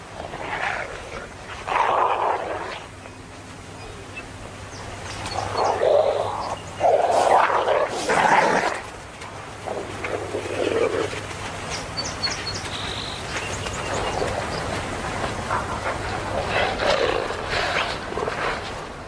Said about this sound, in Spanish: Cheyenne ataca a Cochise, quien ante la presencia de Cherokee se ha atrevido a plantarle cara a Cheyenne